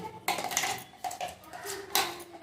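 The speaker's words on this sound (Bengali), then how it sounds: "এখন এই পেস্টটা এখন এই একটা বাটির মধ্যে আমি নিয়ে নিচ্ছি" Ripe mango paste is scooped from a vessel into a bowl with a utensil, giving three separate bursts of clinking scrapes against metal or ceramic, close by and moderately loud with short pauses between.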